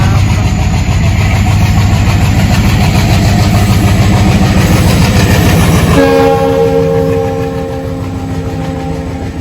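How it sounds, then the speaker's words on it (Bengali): A train crossing from Bangladesh into India rumbles past loud and close with rhythmic clickety-clack of wagons, then its horn sounds in long sustained blasts over the final few seconds as the rumble eases. "বাংলাদেশ থেকে ইন্ডিয়ার ট্রেন ঢুকছে"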